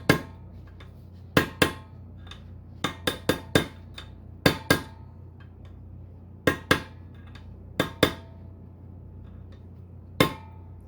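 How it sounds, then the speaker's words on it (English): Light metallic taps from a small socket seating a part on a Ford Super Duty driveline parking brake, a dozen or so sharp clinks arriving irregularly, some in quick pairs, over a quiet background. "take a little bitty socket and lightly tap it, make sure it's seated all the way around good"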